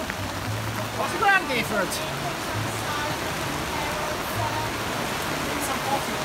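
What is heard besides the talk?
heavy rain falling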